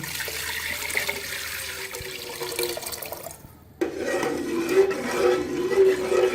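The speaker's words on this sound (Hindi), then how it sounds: "इसलिए मैंने थोड़ा सा पानी इसमें ऐड करके ये यखनी इसके अंदर डालने लगी" Water and beef yakhni stock poured into a cooking pot in a village kitchen, a continuous splashing pour that breaks briefly and then resumes fuller and louder.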